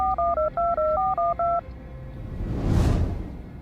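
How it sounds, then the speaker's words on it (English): A telephone number is dialed on a keypad: about a dozen quick, evenly spaced touch-tone beeps, close and clear, followed by a soft rising whoosh. "She stood next to him, fidgeting anxiously as he dialed Charlotte's number."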